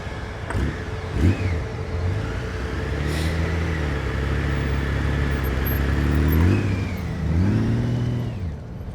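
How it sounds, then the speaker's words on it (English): A quiet motorcycle engine runs at low RPM during advanced slow-speed riding practice. It makes a close, continuous hum with gentle swells as the revs rise and fall. "That motorcycle's quiet, but it's loud enough where I can hear if the RPMs are too low."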